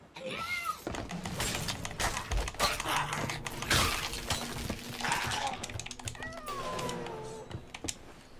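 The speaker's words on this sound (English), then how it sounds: "Kitty's not happy. Kitty's not happy. He's definitely like, he's crying." A pet cat meows and cries in repeated plaintive calls, close by, over busy keyboard typing and the clatter and effects of the pirate game Sea of Thieves.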